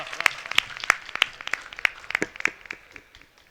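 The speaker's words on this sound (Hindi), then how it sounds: "एक बार ताली बजाओ अच्छे से। जोरदार तालियां दोस्तों।" About a dozen scattered handclaps from a small audience at a Banaras mushaira poetry gathering, uneven and fading in strength toward the end.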